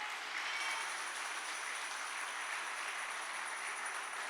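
A church congregation applauds, a dense steady wash of clapping that holds evenly without a break, heard at a moderate distance with no talk over it.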